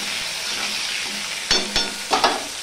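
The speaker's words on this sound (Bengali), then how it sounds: "দিয়ে আলুটা আমি ভেজে নেব।" Potato pieces frying in oil in a pan over a medium gas flame, a constant close sizzle broken near the end by several sharp clinks and scrapes of stirring.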